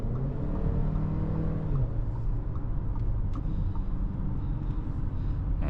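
A 2025 Audi Q3 driving and accelerating, a steady low engine and road hum heard from inside the cabin, continuous and even without distinct revving peaks.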